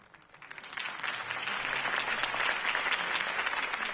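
Crowd applause from a political campaign rally in a Batman video game, a dense wash of clapping that swells quickly and holds steady and loud with no talk over it.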